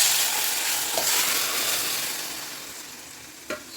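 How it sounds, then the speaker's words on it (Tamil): Broccoli tipped into a pan of sautéed vegetables for a homemade soup, giving a steady broadband sizzle with a couple of soft clunks from stirring or ladle contact, close and fairly loud throughout, no talking. "நல்லா வதக்கி வச்சு இப்போ வந்து நம்ம ப்ரொக்கோலியை இந்த தூக்கி ஊற்றிக்கலாம்."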